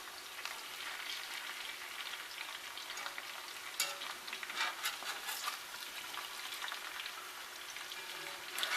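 Kielbasa cooking in a pot while being stirred, giving a steady, fairly soft sizzle and frying crackle with scraping stirs throughout, no talk.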